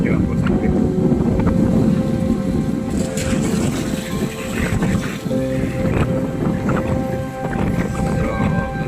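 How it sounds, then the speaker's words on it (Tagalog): Strong wind buffets the seaside boulevard of Dumaguete City, rumbling and gusting against the microphone in uneven surges while someone talks throughout. "At ngayon, malakas ng hangin dito sa Dumaguete City."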